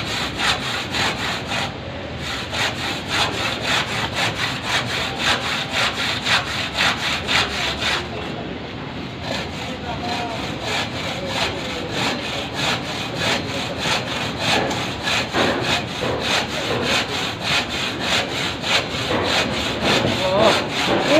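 A hand saw rasps through an AAC block in steady back-and-forth strokes, a loud continuous grinding scrape that carries on for the full stretch with only a short pause partway through.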